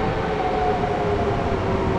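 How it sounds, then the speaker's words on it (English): A train pulls into Kraków station on the line to Wieliczka, a loud, continuous rumble of wheels and engine with a faint tonal whine and no voices. "Here comes the train now, right on time"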